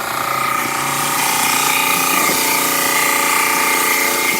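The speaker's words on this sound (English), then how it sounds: "Now the food grinder's on" A food waste grinder runs steadily in a kitchen next to a gas stove, spinning fast with a continuous whirring, pump-like hum that stays loud and even throughout.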